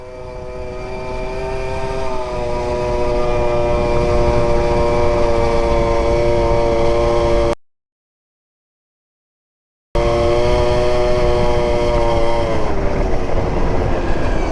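A Yamaha Super Zuma two-stroke scooter rides at half throttle, giving a loud, steady, buzzing engine drone close by. The sound cuts out completely for a couple of seconds partway through, then returns.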